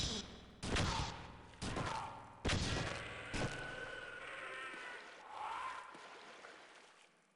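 Gunfire from the Scrimbo gun in the Half-Life video game, four loud separate shots spaced about a second apart, each ringing out into a lingering tail, followed by quieter rumbling.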